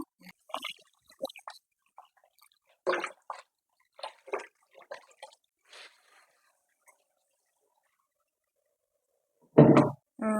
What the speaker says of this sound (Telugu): నేను బియ్యం కడుక్కుంటున్నాను